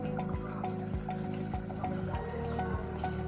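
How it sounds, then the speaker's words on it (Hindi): Stock (yakhni) is poured into a pot of restaurant-style beef handi, making a steady close trickle with a regular run of drips and splashes. "अब हम इसके अंदर स्टॉक ऐड कर देंगे"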